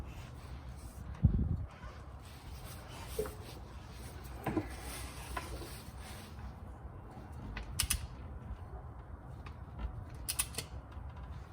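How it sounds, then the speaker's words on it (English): A torque wrench preset to 29 foot-pounds tightens the fill plug on a Lexus GX470 transfer case, producing faint creaks and a few sharp ratcheting clicks amid quiet garage background, with no talking. "Get your torque wrench. Again, I have mine preset for 29 foot-pounds."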